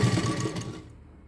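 A sewing machine stitching a size 44 blouse runs in a steady close whir, then stops abruptly near the end, leaving quiet.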